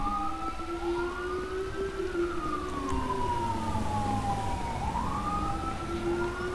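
Ambulance siren in GTA 5 modded with LSPDFR police gameplay, a loud, steady wailing tone sweeping slowly up and down, close by and continuous with a low vehicle rumble underneath.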